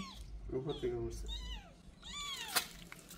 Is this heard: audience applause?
no